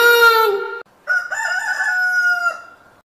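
A rooster crows loudly twice, a short call then a longer drawn-out one, close and clear with a brief pause between.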